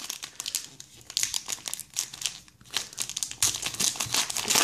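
A Pokémon card booster pack wrapper for Plasma Blast (Explosion Plasma) is torn open, giving close, irregular bursts of crinkling and crackling foil plastic with a few sharper tearing rips, no talk.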